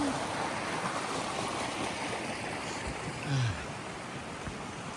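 A small waterfall on a turning creek gives a steady, even rush of water, fairly near and constant, with a brief low murmur partway through.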